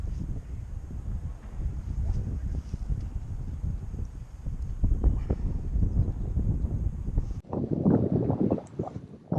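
Gusty wind buffets the microphone in low rumbling bursts at an outdoor fishing match, steady throughout with a sharper blustery stretch near the end.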